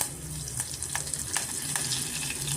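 Chana dal, asafoetida, curry leaves, mustard seeds and cumin fry in hot oil, a close, steady sizzle and crackle with a few light scraping stirs over a low background hum.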